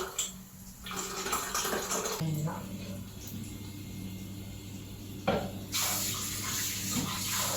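Tap water runs steadily into a home kitchen sink while dishes are washed before lemon rice is made, a fairly close broadband wash with brief shifts in flow and no talk.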